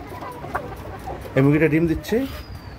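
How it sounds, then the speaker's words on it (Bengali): A red desi hen gives a few short clucks at close range on a poultry farm, with one louder burst of throaty calls in the middle over a low background. "এই যে মুরগিটা পাশে আছে, এটা কিন্তু দেশি মুরগি লালটা"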